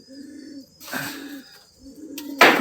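Pigeon of the Homer cross breed cooing softly in low, rounded murmurs, two or three phrases with brief pauses, fairly close, with faint rustling and a sharper burst near the end.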